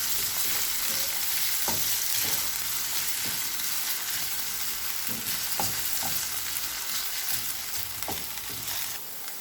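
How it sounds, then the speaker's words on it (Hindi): Chopped potatoes fry in hot oil with a dense, constant sizzle, and sharp scrapes and taps from stirring come through at intervals. "अब इसमें कटे हुए आलू डाल देंगे। इन्हें थोड़ा सा फ्राई कर लेंगे।"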